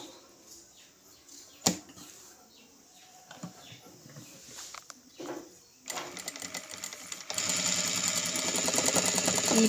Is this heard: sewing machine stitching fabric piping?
yes